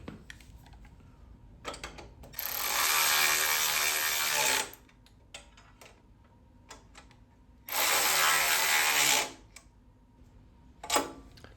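A ratchet tightens the nuts on a Scag SFC 30-inch lawn mower handle in two loud, sustained bursts of rapid clicking, with quieter clinks of metal and handling between them.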